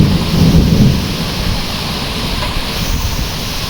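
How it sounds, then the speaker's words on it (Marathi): Heavy rain pours steadily during a night thunderstorm over farmland, with a deep thunder rumble swelling near the start and continuous loud broadband rainfall throughout, no voices. "पाऊस पडतोय"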